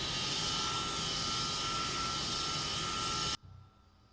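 Steady, loud engine roar of a delta-wing airplane in a flight simulator game, a dense broadband drone with a faint tonal whine, cutting off abruptly near the end to near silence.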